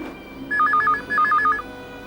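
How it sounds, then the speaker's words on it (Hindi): A telephone rings in two short, bright trilling bursts, each warbling ring clear and close over a quiet room with faint background murmur. "मेरे ख्याल से उसी का फोन है।"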